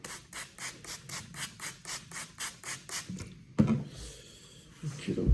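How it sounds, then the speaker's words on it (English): A straight razor is honed freehand on a 3K whetstone, giving a steady series of soft rhythmic rasping strokes, followed by a louder scrape and some handling noise. "I'm going to do some freehand honing this time"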